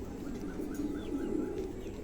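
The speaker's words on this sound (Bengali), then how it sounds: "দুটো কবুতরই মাশাআল্লাহ চমৎকার।" A pair of male pigeons at a pigeon sale give soft, low repeated cooing notes that sit faintly over a murmuring background.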